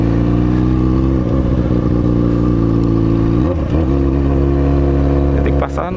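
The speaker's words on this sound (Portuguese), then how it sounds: "Ó a moto dos caras, mano, que invocada" A police Honda CB1000 motorcycle idles with a loud, steady engine note close by, a brief rev near the middle and another at the end.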